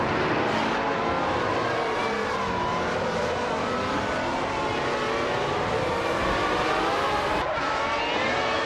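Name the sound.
race cars racing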